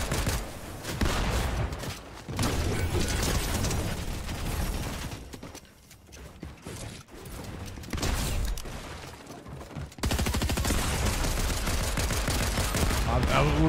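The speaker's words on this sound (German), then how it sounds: "Wenn man Schüsse hört, dann keiner was sagt, dann ist, es für Marlon." Rapid bursts of gunfire from a Fortnite match, loud and continuous with dense rattling volleys, a brief lull midway, then heavy shooting resuming through to the end.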